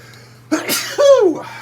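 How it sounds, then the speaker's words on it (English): A single sneeze bursts out after a brief quiet, a sharp breathy intake followed by a loud voiced expulsion, close by, with a low steady hum underneath. "I'm gonna sneeze."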